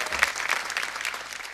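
Applause from a studio audience during a Hindi television comedy show, a brief burst of many hands clapping, fairly close and dense, fading slightly toward the end.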